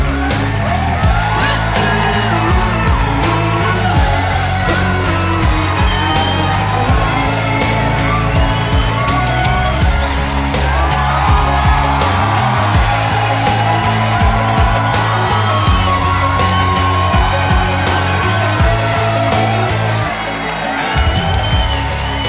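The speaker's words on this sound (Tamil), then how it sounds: "அவருக்காக ஒரு பெரிய கைத்தட்டல் கொடுத்து வைக்கப்படலாம்" A large crowd at a packed stage event roars for Seeman, with yells, whoops and shouts piling over a loud, sustained wall of sound.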